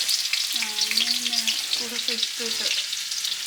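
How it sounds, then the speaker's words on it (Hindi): Spices sizzle and crackle steadily in hot oil as a tempering for palak dal, with a few short melodic tones chiming in the background partway through. "तड़का।"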